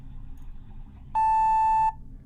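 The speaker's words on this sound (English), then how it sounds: "Please leave a detailed description of your dream at the tone." A single answering-machine style voicemail tone beeps once, a steady electronic pitch lasting under a second, clear and loud over a low background hum.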